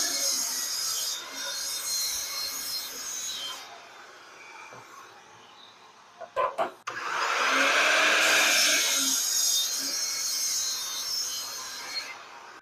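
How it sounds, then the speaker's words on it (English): Rough cutting side pieces of lumber to about 20 inches, likely with a power saw: a steady loud cutting roar, a lull, a few sharp knocks, then a second long, louder cut. "I'm going to cut my side pieces to length of 20 inches, a little extra, rough cut"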